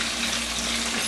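Red snapper frying in really hot oil gives a steady, loud broadband sizzle with no breaks and no talking.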